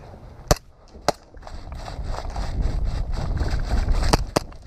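Airsoft guns firing full auto during an airsoft game, heard as a few sharp isolated cracks followed by a sustained rough, noisy rattle of continuous fire with wind rumble, at moderate distance.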